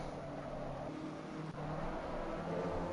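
A BMW M4 GT3 race car engine from the Assetto Corsa Competizione sim, racing at Spa-Francorchamps, drones steadily at high revs for a few seconds, loud and continuous with a brief dip midway.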